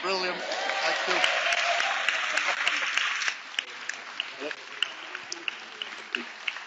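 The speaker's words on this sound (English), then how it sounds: "Let's give a round of applause." Brisk, dense clapping from an audience after a flash mob choir's surprise performance, loud for about three seconds and then thinning into scattered individual claps.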